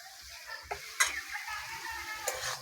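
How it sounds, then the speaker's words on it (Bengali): Chopped tomatoes fry with chicken pieces in a pan, giving a soft, close sizzle broken by a few clear spoon clicks and scrapes against the pan as the mixture is stirred, with no talking. "টমেটোটা ভালো করে ভেজে নেব।"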